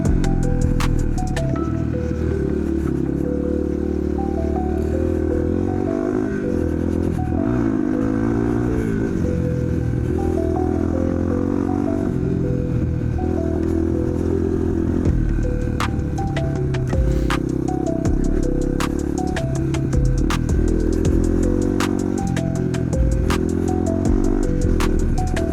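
Motorcycle riding over rutted ground, with a continuous loud engine drone that shifts pitch as it revs and settles, plus occasional rattles and clatter throughout.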